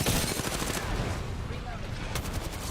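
Gunfire in the battle royale game Apex Legends, dense and loud automatic bursts rattling nonstop at close range, with a busy, chaotic firefight texture throughout.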